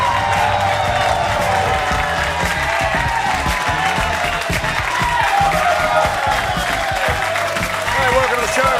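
A late-night TV studio audience keeps up sustained applause and cheering, with steady clapping throughout and a voice talking over it.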